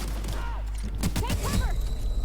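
Shotgun blasts in the video game The Outer Worlds, a few loud booming shots clustered close together over game sounds.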